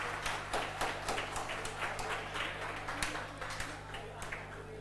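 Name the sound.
hand clapping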